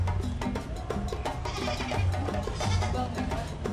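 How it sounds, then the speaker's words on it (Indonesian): Mini goats at a petting zoo bleating in a few short, near cries over a busy background of chatter and crowd noise. "Di sini ada satwa kambing mini."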